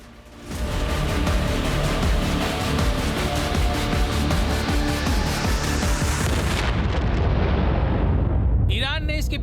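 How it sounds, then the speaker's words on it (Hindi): Explosions rumble from an Israeli air strike bombing in Lebanon, a sustained roaring blast and dense booming wash that stays loud and continuous before breaking off abruptly near the end. "लेबनान में इजराइल की भीषण एयर स्ट्राइक और बमबारी"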